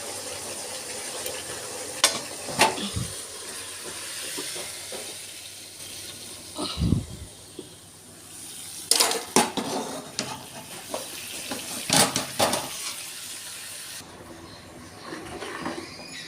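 Spice paste, cooked until its oil separates, is stirred into a pot of khichuri with winter vegetables. Steady frying sizzle and hiss run throughout, with repeated scraping and metal utensil clanks against the pot, close and fairly loud.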